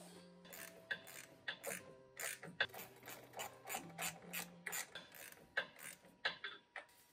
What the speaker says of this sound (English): now we just need to tighten up these bolts.